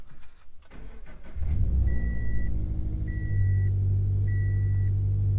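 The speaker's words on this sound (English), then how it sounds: "We're gonna see if the car starts" A Subaru BRZ engine cranking and firing up after a lightweight battery install, then settling into a loud steady idle while a dashboard chime beeps three times at even intervals.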